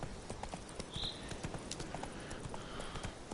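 A horse's hooves clip-clop at a quick, steady running rhythm in The Witcher video game, close and fairly faint, with a short whinny-like sound near the start.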